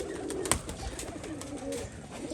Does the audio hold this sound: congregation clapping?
no